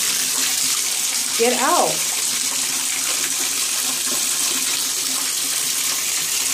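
Water runs steadily from a tap into a bathtub as it fills, a constant close hiss and splash, with a brief spoken voice over it early on.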